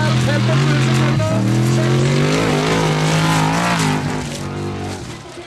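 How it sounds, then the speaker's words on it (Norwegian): A Formula Offroad car at the Mysen track in Norway, its Chevrolet Corvette engine boosted by a truck turbo to about 800 horsepower, races past with a loud, sustained revving roar and shifting pitch that fades near the end. "En Chevrolet Corvette-motor som vi har boostet opp med lastebilturbo skal være rundt 800 hestekraft i denne bilen."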